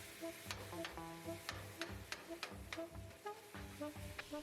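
About five pounds of ground beef sizzles in a pan while a utensil chops and stirs it, producing repeated sharp scraping knocks over a soft, continuous fry at moderate distance.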